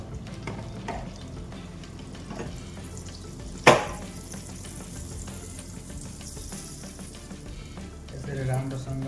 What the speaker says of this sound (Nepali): ननस्टिक फ्राई प्यान लिए 2 पिस बटर राखेँ मैले यहाँनिर।